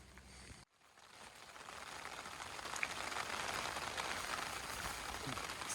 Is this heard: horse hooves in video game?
no